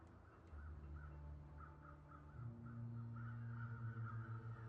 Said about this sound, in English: the crows just flew overhead